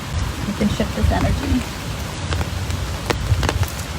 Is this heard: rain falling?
yes